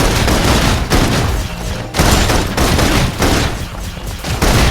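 Sustained heavy suppression gunfire in the video game Love and Deepspace, dense loud bursts of rapid shots with brief gaps between volleys.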